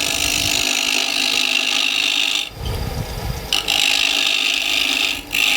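Wood spinning on a lathe as a tool cuts a small tenon, a loud continuous rasping scrape that cuts out briefly twice as the tool lifts away, with no talk.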